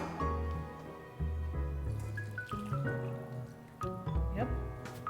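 Vegetable stock poured from a cup into a cooking pot, faint splashing and dripping in short bursts, with clinking and a person talking over it in a home kitchen.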